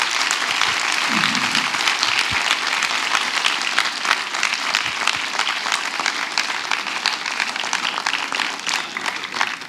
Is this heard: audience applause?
yes